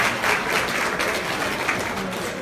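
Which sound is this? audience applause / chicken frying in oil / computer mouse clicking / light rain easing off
audience applause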